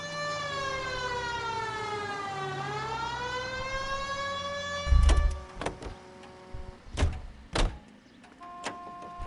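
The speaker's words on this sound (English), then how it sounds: "Turn on the siren and pull her over." A police car siren wails in the video game L.A. Noire, a loud rising and falling electronic tone that sweeps alone before giving way to sharp thuds and clunks of car doors and movement.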